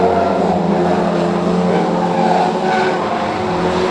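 Pro Stock race cars lapping the oval at Cowdenbeath Racewall, engines roaring continuously and loudly with the pack sweeping past close by, tyres scrubbing on the track under a steady wall of engine noise.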